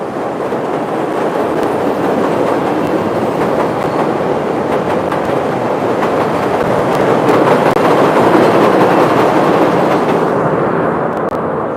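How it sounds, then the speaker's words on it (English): An elevated train rumbling overhead in a city, a loud continuous roar with rhythmic clattering of wheels over the track, steady throughout and easing off slightly near the end. "I can't hear myself, so that's why I'm usually not talking when the train's overhead"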